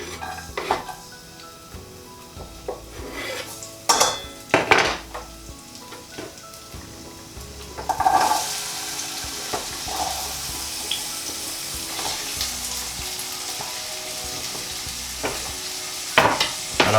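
Vegetables for a vegan sweet potato and dahl pie sauté in a pan under a steady sizzle, with intermittent utensil clinks and scrapes against the cookware close by.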